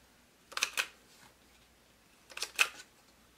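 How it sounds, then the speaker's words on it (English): A quarter-inch corner rounder punches two envelope corners: two short double clicks, close and crisp, separated by a quiet pause, with no talking. "I'm just going to round these 2 corners. So once again, I'll just get my 1/4 inch rounder."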